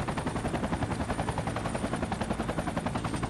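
A helicopter door gun in a Vietnam-themed war game fires in a continuous rapid burst, loud and close, with rotor drone underneath.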